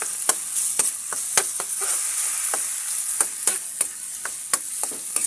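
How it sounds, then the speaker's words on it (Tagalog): Alamang bagoong shrimp paste fries in a pan with a bright, steady hiss, punctuated by frequent quick scrapes and taps of a spoon stirring it, close and clear. "Sunod na natin ang alamang bagoong. Ayan. Ayan, haluin natin."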